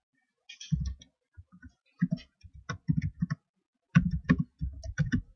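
Typing on a computer keyboard, close, with soft irregular bursts of key taps separated by brief silent gaps.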